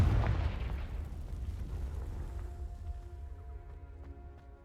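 A fire-blast spell explosion in a video game: one loud booming blast at the start, fading over a few seconds into a low rumble with a faint lingering tone.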